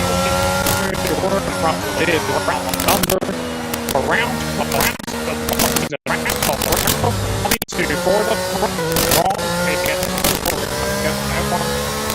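Loud Formula 1 race car engines whine and shift continuously in the F1 22 video game, with tyre noise and a voice talking over the racing.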